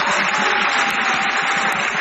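Dense, steady applause from a seated audience at a religious quiz gathering, a continuous wash of clapping without pauses.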